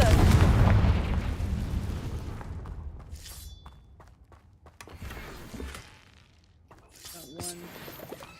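A blasting spell explodes in a Harry Potter video game with a loud, rumbling boom that fades over a few seconds, followed by scattered crackling debris and smaller impacts.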